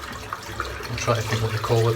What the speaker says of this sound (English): I just rinse it under warm water, the whole soap